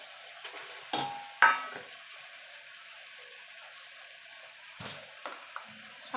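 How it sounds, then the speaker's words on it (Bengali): Water lily stems are stirred with spices in a pan over low heat, with a few scraping, clattering utensil strokes against a faint sizzle, close by, separated by quieter stretches. "এবার শাবলাটা দিয়ে ভালো করে মশলার সঙ্গে নাড়াচাড়া করে নেব।"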